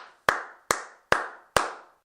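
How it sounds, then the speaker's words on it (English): A single person clapping their hands four times in a steady rhythm to mark a sync point for separate audio and video recordings. The claps are sharp, close and loud, with nothing else heard. "before you shoot a take, clap a couple times"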